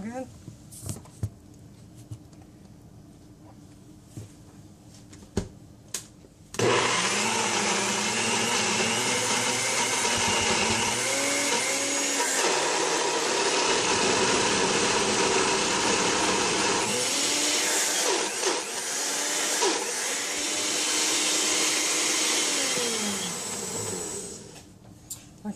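Blender whirring at high speed through thick hummus, a loud sustained motor roar that rises and dips in pitch as the paste stops meeting the blade, starting abruptly after quiet handling sounds and running for most of the clip.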